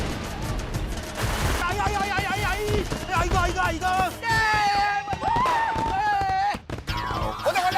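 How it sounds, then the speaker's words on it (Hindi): Diwali firecrackers burst in rapid, crackling volleys of sharp pops, loud and close, mixed with excited shouting voices and talk throughout. "तुम्हें किसने बोला पटाखे फोड़ने के लिए?"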